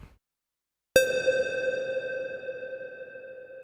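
After a short silence a single square-wave synth note from an Ableton Live Operator instrument strikes sharply, its bright ringing tone sustained and washed in reverb as it slowly fades.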